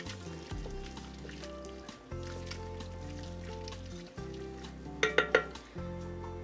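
Ginger, garlic and sherry reducing in a pot for a gingered pumpkin soup, a faint soft sizzle under sustained musical tones, with a few quick clinks of a utensil near the end.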